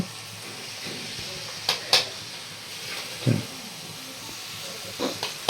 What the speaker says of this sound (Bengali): ভিতর বাঁধাকপি দিয়েছে, বাঁধাকপিটা নাড়ছে